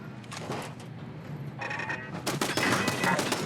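Quiet Fallout 4 video game gunfire, a rapid run of crackling shots that grows busier and louder toward the end over a faint background hum.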